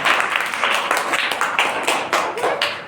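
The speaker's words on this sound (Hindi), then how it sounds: "अनीता कुमारी के लिए जोरदार तालियां लगाइए।" A classroom of students clapping for a classmate during a science lesson on magnets, a loose burst of uneven handclaps, fairly close and moderately loud, lasting a few seconds.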